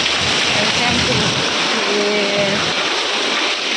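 Steady wash of rain falling, dense and close, with a faint voice briefly audible underneath.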